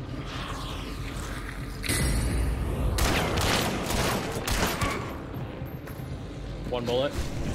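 Rapid bursts of video game gunfire crackle and boom over a steady noisy background, with people talking loosely throughout.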